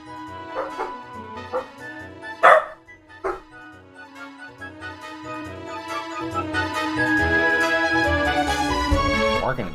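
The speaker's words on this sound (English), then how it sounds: "first things first, Dallas outside barking" A dog named Dallas barks outdoors in a string of sharp yips and barks, sometimes with whimpering, starting irregularly and then running into a denser, louder stretch of barking.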